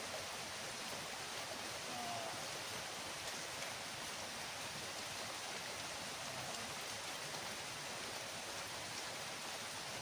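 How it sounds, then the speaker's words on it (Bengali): Light rain falling outdoors, a steady, even hiss of drops that holds level throughout with no talk over it. "তো বৃষ্টি অল্প বৃষ্টি পড়ছে"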